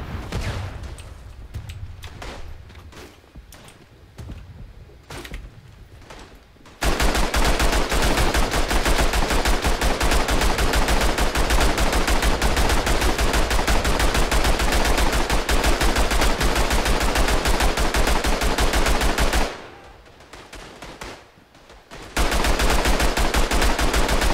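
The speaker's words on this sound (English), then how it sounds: "Shooting blindly got me a kill." Gunfire from the World War I shooter game Tannenberg, heard as a long, loud stretch of rapid machine-gun and rifle shots. It pauses briefly and then resumes at full intensity.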